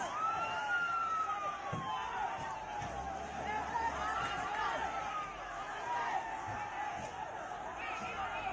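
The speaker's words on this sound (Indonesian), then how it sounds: "3 unit mobil pemadam kebakaran dikerahkan untuk memadamkan api." Fire truck sirens wail at a fire scene, rising and falling under a steady bustle of a gathered crowd and voices, with the sirens sounding moderately distant and continuous.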